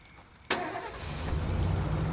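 A car engine cranks and catches in the game State of Decay, starting with a sudden loud burst and then settling into a steady, rising idle rumble, alone with no talk.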